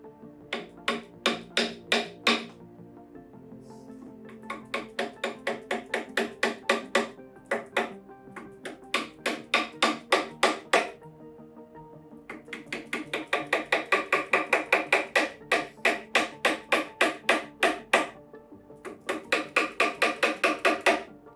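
Chisels strike chipboard in quick rhythmic bursts of sharp, close taps, chipping out a round dent while squaring it off, with brief pauses between each run of blows.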